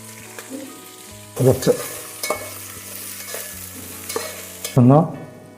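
Green chilies sizzle and crackle in a hot pan with oil, with a few sharp bursts as pieces are stirred and tossed, the frying steady and close throughout.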